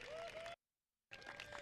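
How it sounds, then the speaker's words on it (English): Applause from an audience at a groundbreaking ceremony for a food pantry in Chaparral, a faint, steady patter that cuts out to silence midway before resuming. "If we could give him another round of applause"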